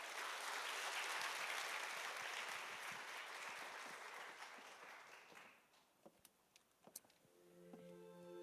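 Sustained audience applause at a church family praise festival, loud and dense clapping that fades out after about five seconds, followed by quieter scattered sounds and the start of a sustained musical tone.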